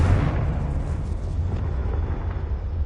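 A Confringo spell blast in Hogwarts Legacy rumbles as a dense, booming explosion, loud and sustained with a heavy low roar across the whole moment.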